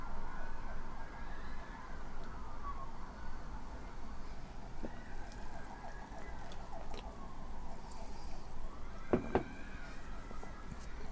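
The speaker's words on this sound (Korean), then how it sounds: "구급차 지나가고 난린 것 같아요." An ambulance siren wails and wavers outside a home on a street with nearby villa and subway construction, heard through walls over a constant low urban rumble, moderately distant and continuous throughout.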